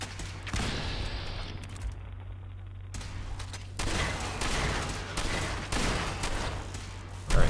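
Shotgun fire in the game Fallout 4, with power-armor combat, comes as dense, loud bursts of shots over a low steady drone, with a brief quiet gap before the firing resumes.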